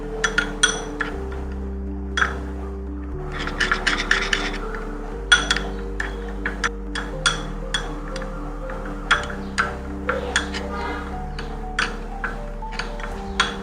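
Spice masala stirred with salt in a metal bowl gives a series of light, sharp ticks and clinks in an uneven rhythm, scraping close by over a low background drone, with no speech.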